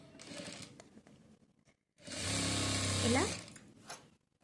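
Sewing machine stitching folded cloth strings for a hanging decoration, running in one loud continuous burst of about a second and a half, with someone talking before and after it.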